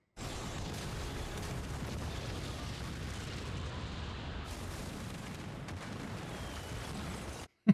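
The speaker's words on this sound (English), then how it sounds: "Fireworks. For the new year." Dense, continuous rumble of New Year's fireworks at midnight, a steady barrage of booms and crackles at moderate distance with no clear gaps between bursts.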